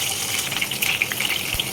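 Green chillies sizzling in hot oil along with whole garam masala, a steady close crackle and hiss of frying with no talk.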